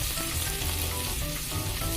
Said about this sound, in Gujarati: આદુ લસણની પેસ્ટને આપણે સાતડી લેશું.